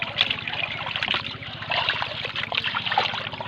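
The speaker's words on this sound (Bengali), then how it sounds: "এবার আমরা মাছটা ভালো করে ধুয়ে নেব" Water runs and splashes while pangas fish is washed in a bowl, a close, uneven trickling and sloshing with irregular bursts, steady throughout.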